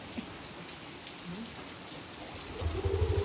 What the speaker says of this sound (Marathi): सकाळपासूनच बघा पाऊस भरपूर आहे